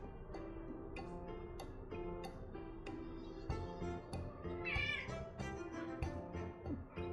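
A cat meows repeatedly while perched on a cat tree, its cries rising over a busy background of music-like tones and household noise, fairly close and insistent.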